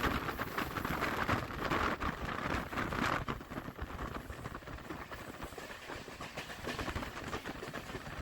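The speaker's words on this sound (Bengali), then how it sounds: "এটা পাঁশকুড়া হাওড়া লোকাল" A Panskura–Howrah local train passes close by at Andul station, a loud continuous rumble and rattle of wheels and cars sustained throughout, with no talk.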